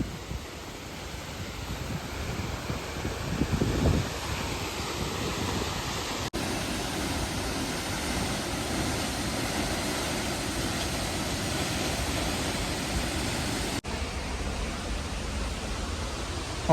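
Continuous broadband roar of a waterfall in Meghalaya, heard on approach, a dense steady rush of falling water that fills the scene without pause and stays loud and even throughout.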